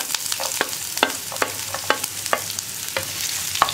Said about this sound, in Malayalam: നമുക്ക് ചെറുതായിട്ട് മുറിച്ച് വെച്ചിരിക്കുന്ന സവോള ആഡ് ചെയ്യാം